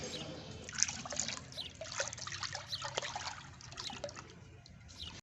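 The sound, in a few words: pouring cooking oil into a pot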